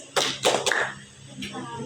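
Students in a classroom do a rhythmic focus clap, a few sharp group claps in quick pattern followed by a softer clap, close and fairly quiet.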